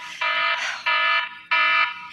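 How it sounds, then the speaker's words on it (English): An electronic alarm sounds in loud, steady bursts, three long tones separated by short gaps, with no talking. "So check out my alarm."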